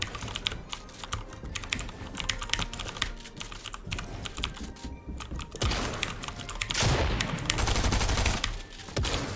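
Rapid clacking keystrokes on a typewriter-style keyboard used for gaming in Arena mode, continuous and close, with bursts of game gunfire crackling alongside and swelling louder toward the end.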